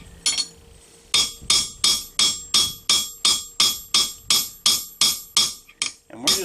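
A steel pin is hammered on an anvil to upset its end into a rivet while attaching a knife guard. About fourteen sharp, evenly spaced hammer blows ring out loud and close, each with a short metallic ring.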